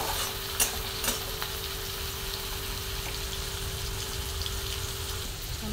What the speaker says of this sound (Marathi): मी एक टमाटर टाकून घेतलेले आहे आणि छान असं परतून घेणार आहे सर्व कांदा,